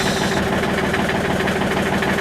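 A tractor engine runs close and loud with a steady, throbbing rumble and a rapid mechanical knock, holding an even level for the whole short stretch.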